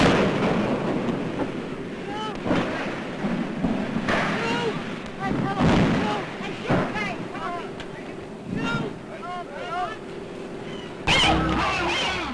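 The 1937 Hindenburg airship disaster in a newsreel, a dense roar of rumbling, crackling noise and bursts with wind-like buffeting throughout, loud and continuous under a busy soundtrack.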